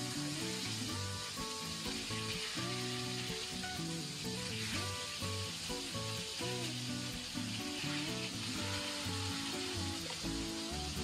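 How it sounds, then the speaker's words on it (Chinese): Eggplant pan-fries slowly under a lid over medium-low heat, giving a steady, even hiss that holds without pause, with a faint tonal hum running beneath it and no voices. "然后加盖儿，一直保持中小火，慢慢的煎。"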